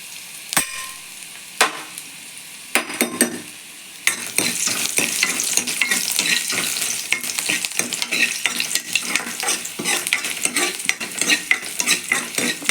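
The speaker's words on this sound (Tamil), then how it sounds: "பூடு நல்லா நச்சுன்னு தட்டி வச்சுருக்கேன்ப்பா, அதையும் போட்டுக்கோங்க. சரிங்களா? பூடு நல்லா வதங்கட்டும்." Crushed garlic sautéing in a pan for a Tamil dried-fish curry (karuvattu kulambu): sharp spoon taps and scrapes at first, then a loud, dense crackling sizzle with rapid stirring, up close.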